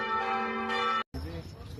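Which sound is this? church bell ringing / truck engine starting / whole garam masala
church bell ringing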